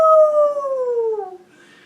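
A boy howling at the moon out of a window at night, imitating a wolf with one long, loud, falling howl that trails off into quiet.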